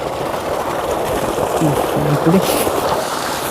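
Water from an electric motor pump pours out onto a field of onions, a steady rushing and splashing flow that runs continuously and fairly loud throughout.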